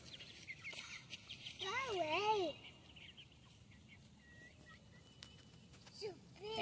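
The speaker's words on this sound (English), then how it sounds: "I'm just hanging out with the chickens." Backyard chickens grazing alongside dogs cluck softly nearby, with one clear warbling call in the middle and quieter clucks at the end over faint outdoor ambience.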